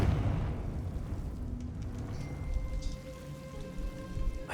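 A Confringo fire spell in Hogwarts Legacy bursts with a heavy blast at the start that fades into a crackling, rain-like patter of debris and faint tonal game sounds.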